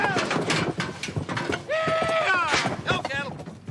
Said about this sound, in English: Go, cattle!